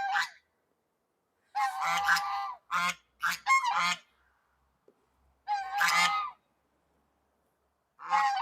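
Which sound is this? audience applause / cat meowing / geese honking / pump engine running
geese honking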